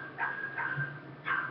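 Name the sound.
dogs barking in the morning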